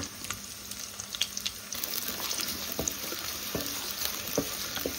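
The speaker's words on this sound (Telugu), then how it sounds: "బ్రౌన్ ఆనియన్స్ లాగా ఇదే కడాయిలో వేయించేసుకుంటే సేఫ్. ఆనియన్స్ వేయించుకో." Onions frying in a kadai make a steady, close sizzle with soft stirring scrapes and a few sharp clicks, with no voices over it.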